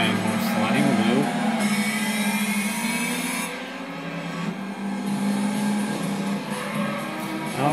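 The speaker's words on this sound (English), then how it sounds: "I just like how I'm sliding the car." Car sliding in Gran Turismo 2 arcade racing, engine sounding like a Mustang, a loud continuous engine drone with rising and falling pitch, tyre-slide tones throughout, and someone talking over it.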